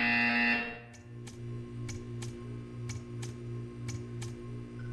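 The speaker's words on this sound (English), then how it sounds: "You will hear a buzzer." A buzzer from the Portal 2 video game, a loud tone that cuts off and is followed by a row of evenly spaced sharp ticks over a low steady hum.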